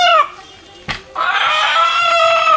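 Country chickens clucking and crowing close by: a rooster-like call fading early, a sharp brief rustle, then a loud sustained squawking cry carrying to the end.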